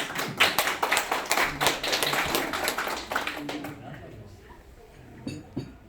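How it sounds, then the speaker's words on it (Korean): An audience at a sixtieth-birthday banquet claps to welcome a pastor, with brisk, crisp clapping that fades out after a few seconds, followed by quiet room sound and a voice beginning to speak. "박수로 맞이해 주십시오"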